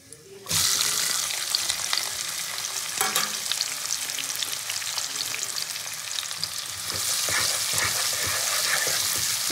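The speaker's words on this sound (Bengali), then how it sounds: "প্রথমে আমি পেঁয়াজ কুচিটা দিয়ে দেবো।" Chopped onion hits hot oil already holding whole garam masala, setting off a sudden loud burst of sizzling that settles into a dense, close, steady crackle with occasional stirring scrapes.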